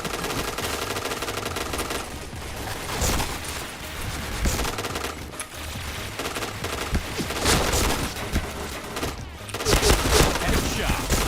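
Rapid bursts of automatic gunfire fill a shooter video game, dense volleys crackling almost without pause, with players chattering underneath.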